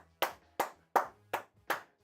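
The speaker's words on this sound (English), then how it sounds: "clap it up" Five sharp hand claps ring out in an even, deliberate rhythm, each crisp and close, spaced about a third of a second apart with silence between.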